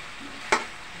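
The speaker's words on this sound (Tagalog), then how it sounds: "piprito-prito natin ng manok" Chicken frying in a pan for tinola, a soft steady hiss of oil with one brief sharper sizzle flaring up midway, fairly quiet and with no speech.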